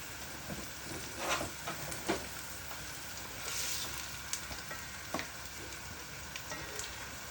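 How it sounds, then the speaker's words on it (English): Onions frying in red palm oil while being stirred, a steady close sizzle with occasional scraping stir sounds and small pops, no talk. "We're going to put the onions. Stir the onions."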